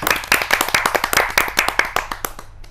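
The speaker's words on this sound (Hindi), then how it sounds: "तो आइए जोरदार तालियों से स्वागत" An audience at a Hindi kavi sammelan claps to welcome a poet to the stage: brisk, rhythmic clapping close by that holds steady and then tapers off at the end.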